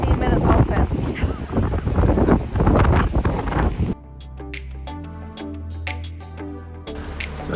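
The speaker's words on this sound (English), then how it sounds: "It's a little windy here." Strong wind buffets the microphone on a coast during king tides and high surf, a loud roaring rumble for several seconds that then drops away, leaving quieter gusts under background sounds.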